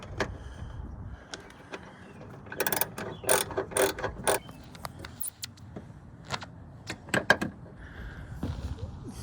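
A ratchet tightening bolts on a van's power sliding door motor during a DIY repair, giving close metallic clicking bursts in uneven runs with pauses between, plus faint handling noises and no talk.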